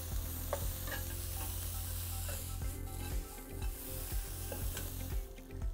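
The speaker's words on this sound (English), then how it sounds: "The sloped sides help you move the onions around so that you can really cook them quickly and easily" Onions sautéing in a wok, a soft continuous sizzle with a low hum and scattered light scraping as they are moved around the sloped sides, fairly quiet and without voices.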